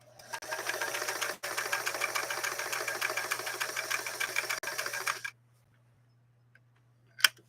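A Singer 328K sewing machine runs at a steady, fast clatter for about five seconds, briefly pausing once, then stops, leaving near silence broken by a single faint click.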